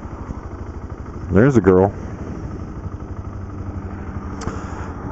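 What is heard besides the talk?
BMW G650GS motorcycle riding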